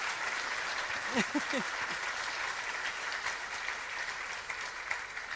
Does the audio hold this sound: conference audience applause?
yes